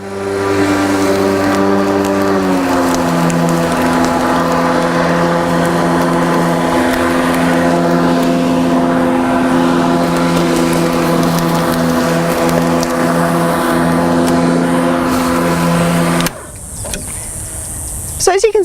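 A GreenWorks G-MAX 40V cordless twin force lawn mower runs with a steady, fairly moderate electric motor hum and blade whir for most of the time, then cuts off abruptly near the end.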